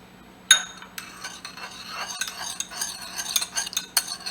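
Lemon, lime and alum being stirred into a liquid in a container, a sharp clink at the start followed by steady scraping, clinking stir strokes, fairly close and without talk.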